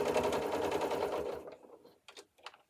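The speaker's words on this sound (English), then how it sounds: "get back to sewing" Sewing machine stitching fleece mittens, a steady close run of rapid stitching for about a second and a half, then stopping, followed by a few brief faint bursts of handling sounds.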